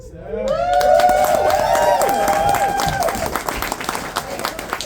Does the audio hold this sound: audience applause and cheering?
yes